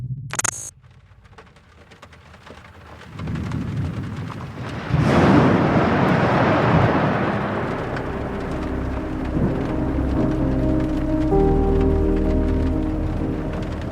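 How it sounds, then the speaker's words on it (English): Steady rain falls through trees on a night in rural Arkansas, rising after a few quiet seconds into a dense, continuous wash with a low rumble and a faint tonal drone underneath. "Rain sweeps through the trees, steady and cold."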